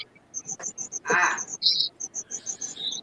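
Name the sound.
crickets chirping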